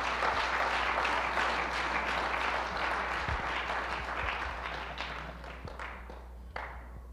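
Church congregation applauding for Jesus during a sermon, a broad, sustained roar of clapping that is loud at first and gradually thins and fades, with a few scattered thumps near the end and a low steady hum beneath.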